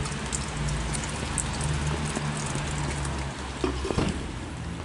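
Light rain falls outdoors at an Armistice Day gathering in Azay-le-Ferron, a steady soft hiss of drops with a low rumble beneath it and no voices.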